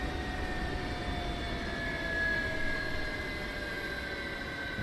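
Jet engines of an MD-11 airliner in Microsoft Flight Simulator 2024 hum as a steady, moderately quiet drone with sustained whining tones, with no voices over it.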